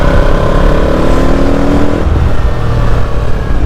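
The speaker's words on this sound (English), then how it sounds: "You have to twist the throttle as well. To go full throttle, you have to go quite far around." A Yamaha MT-07 motorcycle engine revving under a twisting throttle, loud and close, with a dense, steady roar that shifts in pitch partway through.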